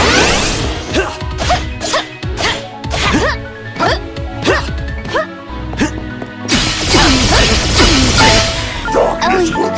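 Sword strikes from the Cross Cut attack in Trials of Mana land as a quick run of sharp, close impacts and swishes, overlaid by game music and character voice lines, ending in a dense burst of hits.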